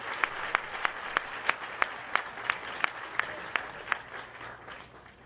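Crowd applause rings out at a Fort Benning Ranger demonstration at a graduation event, with sharp regular claps or bangs about every third of a second over a steady wash of clapping, loud and close.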